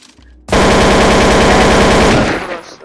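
An automatic rifle in Counter-Strike: Source fires one sustained, loud burst of rapid shots lasting about two seconds, starting abruptly after a quiet moment and ending with a short tail.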